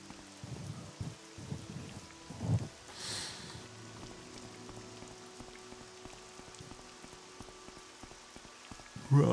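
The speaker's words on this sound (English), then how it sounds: "Naturally it's raining." Steady, faint rain patters on and on in Telvos in the video game Morrowind, a continuous soft hiss of drops with a few brief louder swells and no speech.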